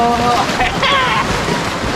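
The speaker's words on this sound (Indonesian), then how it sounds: "Nggak takut kegulung ombak, Sob?" Ocean surf washing in at a tropical beach where water buffalo wade and soak, a steady broadband wash of breaking waves with some wind, heard close throughout with faint voices mixed in.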